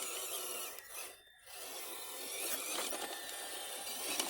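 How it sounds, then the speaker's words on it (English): A small WPL RC truck drives across sand, its motor whining with a gritty, raspy hiss as the tires churn, briefly dipping before rising again, fairly faint and close. "This thing does pretty good on the sand, surprisingly."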